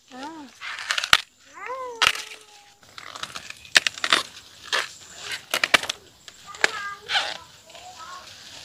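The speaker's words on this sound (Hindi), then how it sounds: "देखिए कविता जी फट फट तोड़ने में लगे हुए हैं" Maize cobs are snapped off by hand in a hill village field, giving sharp, loud cracks that come one after another, with voices talking and calling between the snaps.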